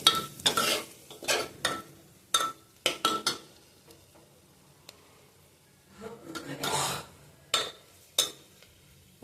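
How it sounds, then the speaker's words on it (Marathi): Ground masala paste for a brinjal curry is stirred and sautéed in a pan, with irregular scraping strokes and metallic clatter between quieter pauses. "आता हे थोडंसं परतायचं आहे आपल्याला"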